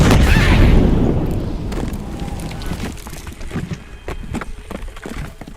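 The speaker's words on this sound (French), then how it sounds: "Explosion volcanique incendiaire!" A fiery volcanic explosion effect in a fantasy role-play adventure: a loud booming blast opens the clip, then a rumbling, crackling roar tails off gradually over several seconds.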